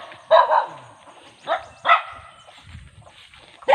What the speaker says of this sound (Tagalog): Tinatahol ako ng aso.